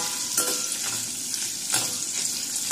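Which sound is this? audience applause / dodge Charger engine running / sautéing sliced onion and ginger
sautéing sliced onion and ginger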